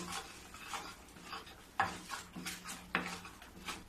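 A ladle stirs melted sugar in a pan for khoa barfi, making close, rhythmic scraping and rubbing strokes, with two sharper metallic scrapes standing out among the repeated strokes, and no talk.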